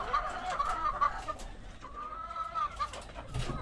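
One-month-old chickens in a new coop cluck and peep in short repeated calls, close and fairly steady, with a light rustle near the end.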